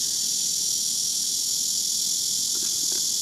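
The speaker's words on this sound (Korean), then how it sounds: "매미가 합창을 하네요." A loud, steady chorus of cicadas on a hot summer day, an unbroken high buzzing drone filling the whole stretch with no pauses and no voices.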